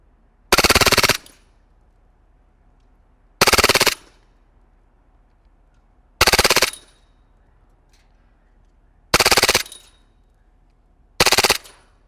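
Five loud, close bursts of full-auto fire from an Elite Force Glock 18C airsoft pistol running on green gas, each rapid string lasting about half a second and separated by quiet pauses.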